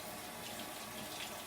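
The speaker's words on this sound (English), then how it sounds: "So rinse your hands off." Tap water runs steadily from a faucet into a sink while hands are rinsed before making burgers, a continuous close splashing hiss with no talk.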